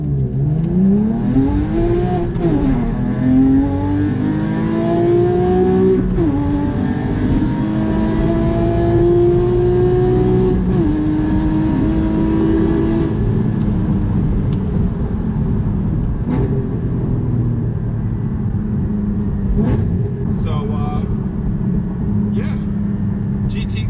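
A new Porsche GT3 engine revs and pulls through the gears while driving, with rising and falling whine over a steady loud rumble from inside the car and a few short voice sounds near the end.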